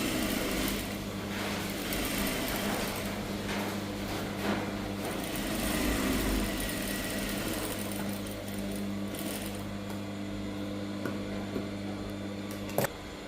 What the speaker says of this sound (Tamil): அப்படியே தையல் போட்டுட்டேன்.